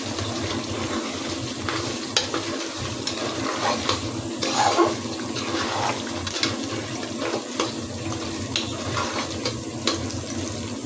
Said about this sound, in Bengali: চুলার আঁচ কমিয়ে দিয়ে আস্তে আস্তে নেড়ে মাংসটাকে সিদ্ধ করে নেব।